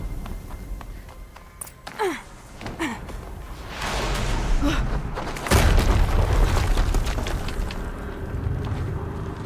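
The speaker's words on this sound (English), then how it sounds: "Another explosion." Explosions in Horizon Zero Dawn Remastered game: a deep boom with a rushing whoosh midway, followed by a loud sustained rumbling blast, amid busy game sound effects and no talk.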